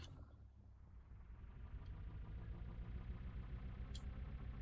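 A sports truck engine idles in the Scrap Mechanic game with a low, steady, faint rumble and slight vibration throughout.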